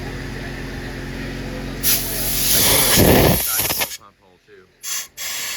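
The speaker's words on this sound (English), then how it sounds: "We're kind of just going around everything with a blowgun and a little screwdriver and making sure all the sealant's out of holes" Compressed air blowgun blasting sealant out of holes in a Ford 6.0 Powerstroke diesel engine block, with a loud hiss building for about two seconds, then short separate bursts, plus brief talk in between.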